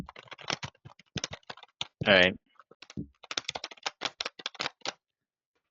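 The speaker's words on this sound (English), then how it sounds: "you grab your keyboard and you just go like this" Quick bursts of computer keyboard typing clatter in irregular runs of sharp clicks, close and fairly loud, with a short spoken interjection partway through.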